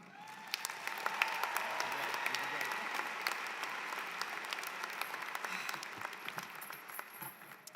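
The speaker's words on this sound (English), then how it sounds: "please greet her with a lot of applause" Graduation audience applauds steadily, welcoming the student speaker to the podium at an online postgraduate programs commencement ceremony; dense, sustained clapping from a large crowd, slightly distant, holding throughout.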